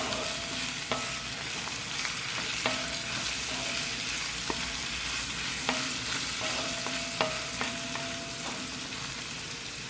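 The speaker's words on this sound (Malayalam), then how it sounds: "നമ്മൾ പച്ചമുളക് 5 എണ്ണം കീറിയതും നമുക്ക് ഇട്ട് കൊടുക്കണം. നല്ലപോലെ ഇളക്കി കൊടുക്കാം." Slit green chillies stirred into a quail roast frying in a pan, a steady close sizzle broken by repeated spoon scrapes and knocks against the vessel.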